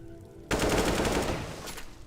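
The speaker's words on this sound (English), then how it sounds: "That's the full automatic without muzzle flash" A full-automatic rifle from a Skyrim mod fires in a sudden sustained burst of rapid shots that starts abruptly, holds loud for over a second, then tapers. No voices are heard.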